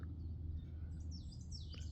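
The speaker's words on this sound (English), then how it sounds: "I haven't really heard anything but birds." Faint birdsong and high chirps drift in over a steady low rumble in Sherwood Forest, growing slightly busier toward the end.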